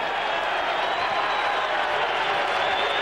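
A boxing arena crowd at a Klitschko–Byrd heavyweight title fight roars continuously as fans stand on their feet, a dense, steady wash of cheering and applause with no breaks over a few seconds.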